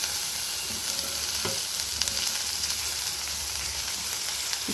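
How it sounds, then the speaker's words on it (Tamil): Shredded cabbage sautéing in a hot pan for a South Indian cabbage poriyal, giving a steady, close frying sizzle with faint stirring scrapes and no voices. "முட்டைக்கோஸையும் சேர்த்து நல்லா வதக்கிக்கலாம்."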